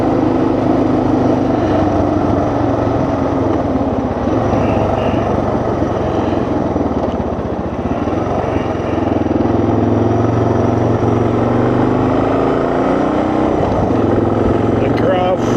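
A 2024 Suzuki DR 650 motorcycle with a carburetor fault rides on a breezy day, its engine droning loud and steady under heavy wind rush throughout.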